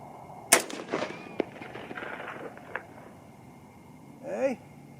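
A .243 Winchester rifle fired from a 24-inch MSR: one loud sharp report up close, then lighter cracks and a ringing target hit trailing off at a distance.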